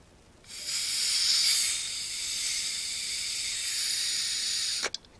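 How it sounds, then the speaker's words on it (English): A steady, loud hiss of compressed air blowing into a Holley 650 carburetor for several seconds, cutting off abruptly with a brief sputter at the end. "I'm just gonna video me blowing air onto this thing"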